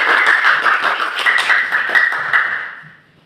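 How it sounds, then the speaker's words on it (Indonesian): A classroom group claps together in a short, dense burst of applause, close and lively, tapering away over about three seconds with no talking. "Tepuk tangan untuk kita semua."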